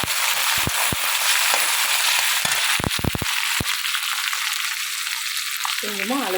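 Green chilies and garlic sautéing in a pan give a steady, close, loud sizzle and crackle, with a few sharper pops and faint stirring scrapes along the way.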